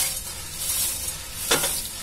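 Puffed rice being mixed in a kadai over a low flame, a soft continuous hiss and rustle with one brief sharper scrape of the spoon near the end, close and fairly quiet.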